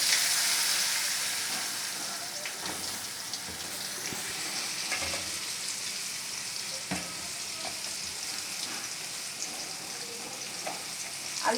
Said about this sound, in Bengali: আলুগুলো যাতে তাড়াতাড়ি ভাজা হয়ে যায়